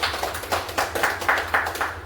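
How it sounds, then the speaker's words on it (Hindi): Audience at a business meeting applauding loudly for Pradeep Singh, a rhythmic burst of clapping with strong regular beats, close and continuous for a couple of seconds. "एक जोरदार ताली होनी चाहिए प्रदीप सिंह सर के लिए"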